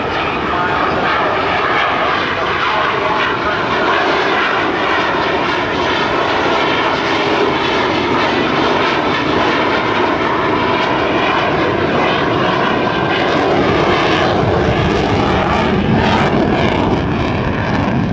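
An F/A-18C Hornet fighter jet, about 50,000 pounds, roars through a low, slow pass at about 115 miles an hour at the 2007 Dayton air show, its loud engine noise filling the whole stretch while a commentator talks over the public address.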